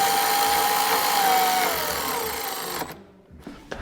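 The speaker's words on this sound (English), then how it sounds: "Get some bolts and some Loctite and start zipping this all together." A power tool zips bolts into an SSI/BDX belt drive assembly with a loud, steady whir that slowly drops in pitch, then cuts off abruptly, leaving a few faint clicks and handling sounds.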